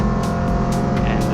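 A race car lapping Bathurst in an APC race: a loud, continuous engine drone from close range, holding a steady, gritty tone across the whole moment.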